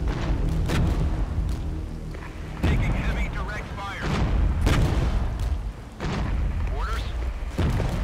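Artillery fire in the Cold War wargame Flashpoint Germany booms repeatedly, several heavy blasts with rumbling tails spaced a second or two apart, fairly loud against a busy battle background.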